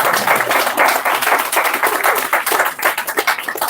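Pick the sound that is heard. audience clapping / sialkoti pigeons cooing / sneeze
audience clapping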